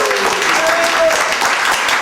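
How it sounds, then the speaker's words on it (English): An audience at a Toastmasters speech contest in Singapore breaks into a loud, dense round of applause, many hands clapping together at close range for about two seconds. "A round of applause, please."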